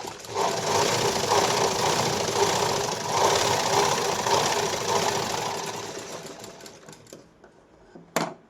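Electric sewing machine running a steady, continuous stitch on a blouse lining, loud and close, with the motor hum slowing toward the end before a brief final burst.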